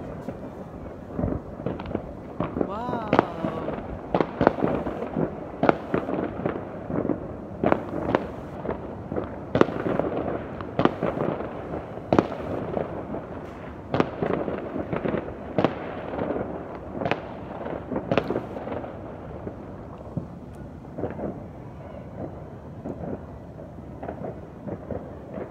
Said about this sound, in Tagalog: Ganda ng mga fireworks.